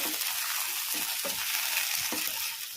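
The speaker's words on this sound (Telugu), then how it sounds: "ఇదంతా కూడా ఇప్పుడు బాగా కలుపుకోవాలి." Brinjal and onion dry fry hisses steadily in a pan while a spatula scrapes and turns it in several distinct strokes, the sizzle close and constant throughout.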